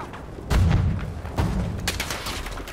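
Gunfire in the video game Battlefield V, a few heavy booming shots spaced irregularly over a few seconds, loud and close, each trailing off into a rumbling decay.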